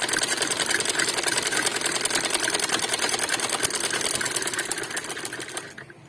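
A sewing machine runs steadily, stitching a fabric cover with a dense, even mechanical whir that carries through almost the whole stretch, then slows and stops near the end.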